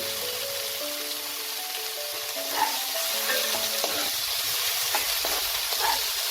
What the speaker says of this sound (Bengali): শাকটাকে আমি 2-3 মিনিট একটু নাড়াচাড়া করে নেব।